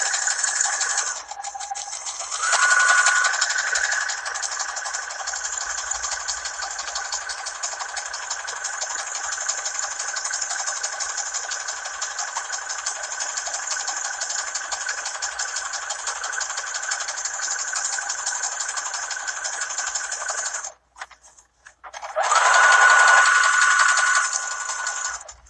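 A sewing machine stitches a seam on a tote bag in a long steady run close by, with a higher-pitched whir at the start, a brief stop near the end, then a short burst of stitching again.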